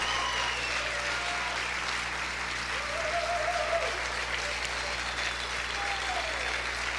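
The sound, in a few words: church congregation applauding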